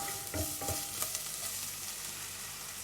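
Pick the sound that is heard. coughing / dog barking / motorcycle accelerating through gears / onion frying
onion frying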